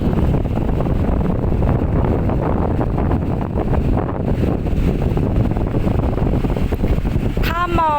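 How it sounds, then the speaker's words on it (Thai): Strong wind buffets the microphone at Bang Saen beach, a loud, steady roar with surf washing underneath throughout. "ทะเลบางแสนวันนี้นะคะจะมีความคลื่นนะคะ พัดแรงลมแรงนะคะ"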